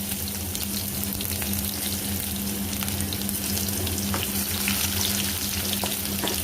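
Chopped garlic hits hot oil in a pan of tempered spices for a Bombay duck fish curry, giving a loud, continuous close-up sizzle with a faint stir now and then.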